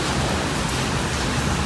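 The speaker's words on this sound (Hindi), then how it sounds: "कितनी ठंडी ठंडी बारिश है ये देखना ना।" Heavy, cold rain falling outdoors, a dense, even hiss of downpour filling the whole moment, steady and fairly loud with no speech.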